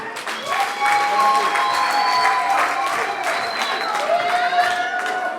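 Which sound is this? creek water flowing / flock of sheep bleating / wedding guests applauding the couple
wedding guests applauding the couple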